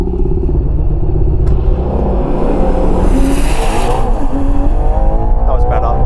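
A 725hp Ferrari Purosangue SUV accelerates hard on a quarter-mile run, its engine roaring loud and steady throughout, with a rising, sustained drone and a voice talking over it.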